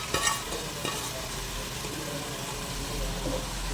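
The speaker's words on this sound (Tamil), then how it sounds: "அவரைக்காய் போட்டு மிக்ஸ் பண்ணி விட்டுருங்க" Broad beans stirred into a chicken gravy in a pan, with a loud, close sizzle and a few scraping spatula strokes near the start.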